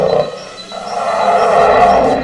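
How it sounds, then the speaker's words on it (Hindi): A bear's roar played through a mobile phone speaker to scare off a fox guarding goats, a sustained growling roar lasting about two seconds, fairly loud and close. "अपने मोबाइल फोन पर भालू की दहाड़ की आवाज सुनाई।"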